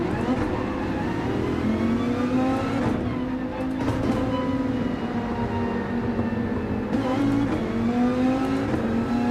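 Race car engines from Gran Turismo 7 at Monza drone loudly and continuously, with a sustained high whine and shifting pitch as the cars run close together.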